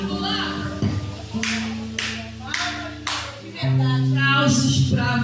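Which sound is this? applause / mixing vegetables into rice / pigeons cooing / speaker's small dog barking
applause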